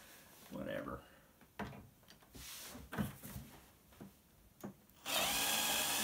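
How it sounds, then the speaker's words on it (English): A power drill works screws out of an eMac computer, with short whirring bursts and handling clatter, then a sustained loud run at the end. "Power drills time."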